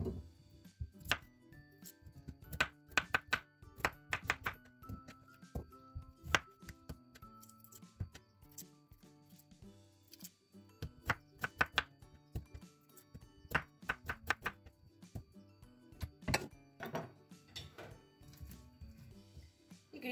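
Potatoes being chopped with a knife on a board for a meatball and potato dish, clusters of sharp, close knocks in irregular bursts separated by short pauses, fairly quiet with no talk.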